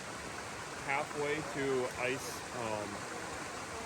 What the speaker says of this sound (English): the waterfall is pretty cool